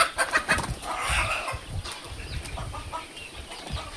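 Sonali breed hen clucking in short bursts on a farm in Pune, with faint background farmyard noise, moderately close, no talking.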